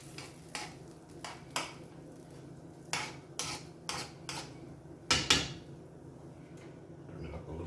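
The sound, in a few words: scrambling eggs in a pan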